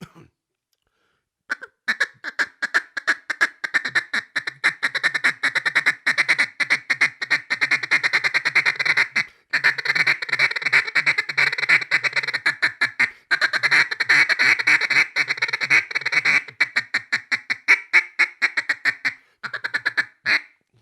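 A duck call blown in a single cut feed chuckle, a fast, continuous rolling chuckle, loud and close, with short breaks between long runs of rapid clucks.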